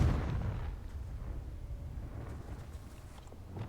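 A Confringo fire spell blasts in Hogwarts Legacy, a deep booming burst at the start that rumbles and fades into a low lingering roar.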